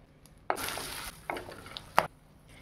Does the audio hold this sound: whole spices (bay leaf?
yes